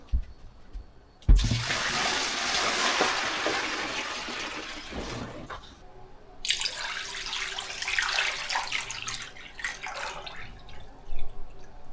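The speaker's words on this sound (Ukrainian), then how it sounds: "поэтому сливаю водичку і наливаю чистенько" Water gushes out in a steady stream, stops briefly, then pours again into a pot with splashing, close and continuous, as meat soaking water is drained and replaced with clean water.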